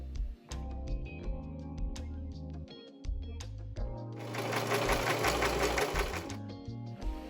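A sewing machine stitches denim corset pieces cut from old jeans: rapid rhythmic clacking bursts with short pauses, then a longer continuous run of fast stitching near the end, close and clear with no talk.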